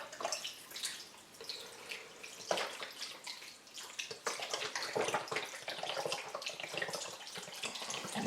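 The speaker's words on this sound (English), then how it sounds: "Alright, we put our beef stock in." Boxed beef stock from 32-ounce cartons glugs and splashes as it is poured over a venison neck roast in a pot, a fairly quiet, uneven stream with brief pauses between pours.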